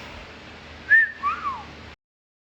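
A person whistles a short two-part phrase, a sharp rising note then a falling slide, close and clear over faint room hiss.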